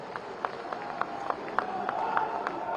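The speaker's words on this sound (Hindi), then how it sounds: "एक बार जोरदार ताली बजाकर स्वागत कीजिए साथियों" Audience at a BJP welcome ceremony for party president Nitin Nabin clapping, a fairly faint spread of scattered claps building slightly toward the end, heard from a distance in a hall.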